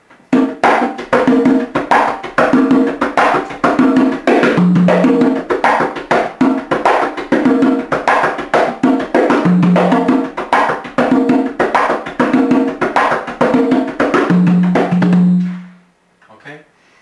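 Two congas play a fast, steady salsa tumbao pattern of slaps and open tones, close and loud, ending abruptly.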